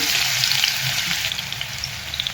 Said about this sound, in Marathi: आपण आता खूप सारा लसूण टाकूया याच्यामध्ये